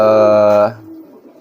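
A pigeon gives one loud, close, tonal coo lasting under a second, then falls quiet to faint background noise.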